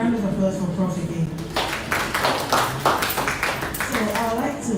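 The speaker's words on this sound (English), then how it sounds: "A round of applause for Prof again." An audience at a raw materials lecture series breaks into applause, with a burst of clapping that swells after a speaking voice and continues steadily to the end.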